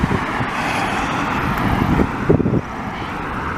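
Cars passing on a street in Dorval, Montreal, a continuous loud rumble of road traffic with a brief surge as a vehicle goes by, wind noise mixed in.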